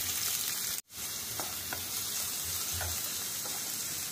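Onions sizzle in hot oil with popped mustard seeds, giving a steady broadband frying hiss with a brief dropout near the start and a few soft stirring clicks, no talking.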